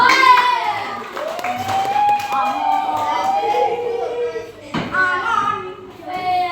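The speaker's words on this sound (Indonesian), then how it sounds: "Kasih tepuk tangan untuk kelompok." Schoolchildren in a classroom clap for a group of classmates, with uneven hand claps mixed into loud overlapping young voices and bright chatter throughout.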